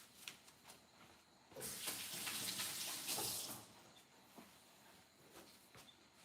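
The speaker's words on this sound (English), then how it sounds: "I will wash my hands." Water runs from a kitchen tap while hands are washed, a soft hissing splash that swells for about two seconds mid-clip before fading, with faint clatter around it.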